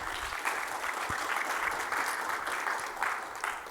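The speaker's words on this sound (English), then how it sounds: "Please give her a rounding hand of applause." An audience at the JNUC conference in Denver applauds steadily for a presenter, a dense, even wash of clapping that holds at the same level for the whole stretch with no voices over it.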